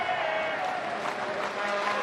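Sold-out crowd applauding at a hockey arena, Giant Center, during game 2 of an AHL playoff between the Cleveland Monsters and Hershey Bears; a steady, dense wash of clapping and crowd noise with no clear pauses.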